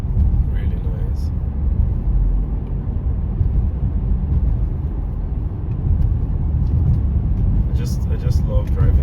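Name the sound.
car driving along country roads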